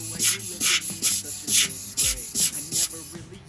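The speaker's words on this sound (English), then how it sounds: "Now I'm just gonna brush around, just making sure that it really gets into all of the little nooks and crannies" Brush scrubbing over a PS5 circuit board to work super glue residue into small crevices, a steady rhythmic back-and-forth bristle rubbing with regular strokes, close and alone.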